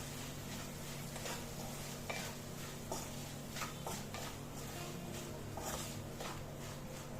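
Green chilli pickle being stirred together with red chilli powder and spice mix, a steady soft scraping and mushy churning with a few sharper scrapes against the container, low background hum throughout, no voices.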